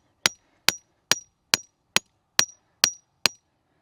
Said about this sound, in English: So I'm going to hammer this down pretty good.